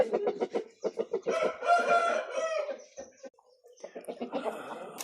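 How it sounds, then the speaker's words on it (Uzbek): A rooster offered for sale crows loudly and close by in the middle, with short clucking calls before and after and a faint voice mixed in. "Bu xo'rozimiz ham sotiladi."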